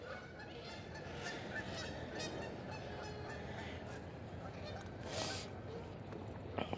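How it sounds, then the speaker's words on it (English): Geese honk on a river at dawn, a continuous chorus of overlapping calls heard from a moderate distance over faint background noise. "Here are the good old geese on the river."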